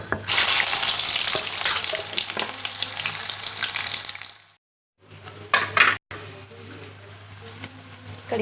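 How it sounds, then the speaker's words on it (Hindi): Spices sizzle loudly in hot oil as the tempering for kadhi is made, a dense steady hiss that cuts off abruptly, then returns with a few sharp bursts and a continuing fizz; a voice is briefly heard. "अब हम इसमें बघार लगा देंगे"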